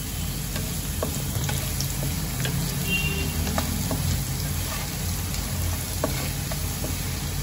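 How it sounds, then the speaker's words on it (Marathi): Potatoes frying in oil for Khandeshi kande pohe make a steady close sizzle with occasional stirring scrapes throughout. "बटाट्यांना मी चांगलं फ्राय करून घेतलीये तेलामध्ये।"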